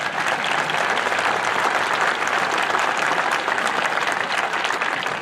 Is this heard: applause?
yes